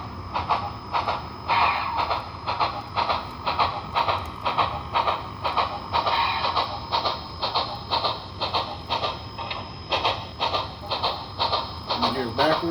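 Sound decoder in an HO-scale Intermountain Southern Pacific 4-8-8-2 AC-12 cab forward model steam locomotive, moving forward with a steady rhythmic chuffing at moderate volume, a person talking intermittently over it.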